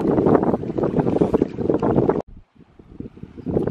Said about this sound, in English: it's pretty cold. So the wind's blowing through.